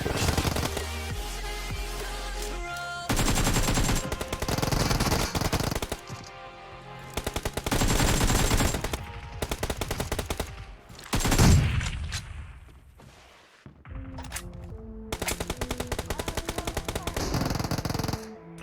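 AKM rifle fire in the mobile game PUBG Mobile: repeated loud bursts of rapid automatic shots, separated by short pauses and quieter stretches.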